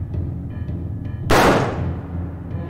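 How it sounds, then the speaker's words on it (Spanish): A single sharp starting-gun blast in the video game Squid Craft Games cracks out and decays over about a second, over a low steady background hum. "eso es el disparo de salida"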